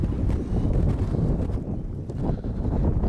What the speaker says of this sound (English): how hard those winds are blowing in here